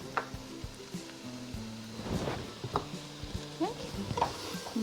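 A corn and black bean mixture is tossed and stirred in a pan over low heat, giving soft scraping and clinking with a faint sizzle underneath, up close and fairly quiet.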